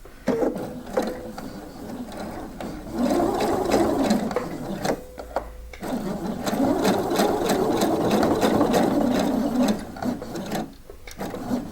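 A sewing machine stitches a blouse in long steady runs of rapid mechanical chatter, pausing briefly twice as the needle is stopped down and the fabric turned, then starting up again at full speed.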